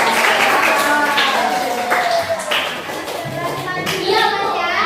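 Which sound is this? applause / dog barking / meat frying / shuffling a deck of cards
applause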